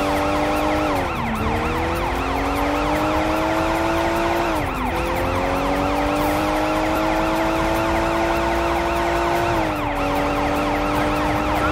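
Police siren wailing on a freeway in the video game Sleeping Dogs, a loud continuous rising-and-falling tone with several repeated sweeps, heard alone without talk.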